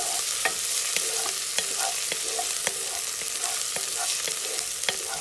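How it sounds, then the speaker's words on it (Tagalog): Onions, garlic and ginger frying in a pan for chicken binakol, a steady close hiss of sizzling oil broken by a regular series of spatula taps and scrapes, with no one speaking. "So start frying the onions, the garlic, and the ginger"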